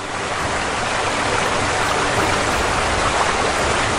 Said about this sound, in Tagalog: nakikita mo ba ang talon na yan?